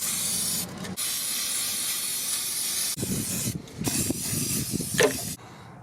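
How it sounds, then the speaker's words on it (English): Loud hissing bursts of a spray can painting the wheels of a Jeep Cherokee XJ, long continuous sprays broken by short pauses, then quicker spurts with rattling and handling noises. "clean these wheels up, spray it real quick"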